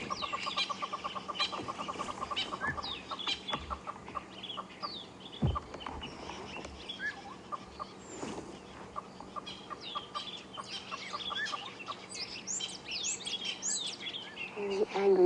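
Wild birds calling agitatedly at dawn in the bush during a live safari drive, with a busy mix of clucks, chirps and harsh calls near and far, and faint voices now and then.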